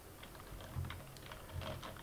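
Quiet clicking of keys on a computer keyboard while code is entered, a short uneven run of soft taps, close and faint, with no talking.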